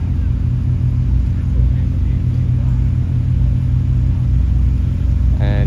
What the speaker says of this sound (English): McLaren's track only car coming through, the Solus GT, fitted with the V10 in it